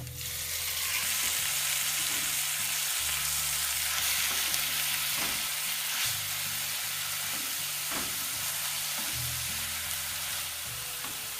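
Boiled red amaranth greens hit a hot pan with a loud, continuous sizzle and hiss, and a low hum runs beneath it in repeating bursts the whole time.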